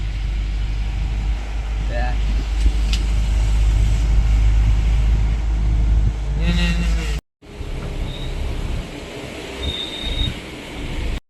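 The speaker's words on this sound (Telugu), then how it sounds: "సో గాయ్స్ ఫైనల్లీ జీప్లో అయితే వెళ్తున్నాము" A Mahindra jeep grinds along a steep Munnar hill-station road, a steady low engine and road rumble throughout with brief creaks and rattles, a short cut midway, and people talking over it.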